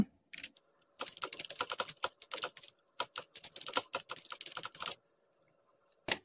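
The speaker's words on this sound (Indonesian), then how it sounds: "Kita tekan Ctrl M." Computer keyboard keys pressed in quick bursts of clicky taps, close and fairly quiet, with short pauses between runs of typing and no voices.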